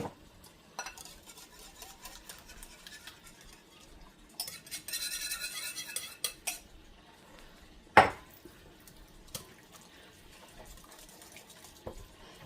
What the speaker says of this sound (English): So I'm mixing up my pumpkin with my eggs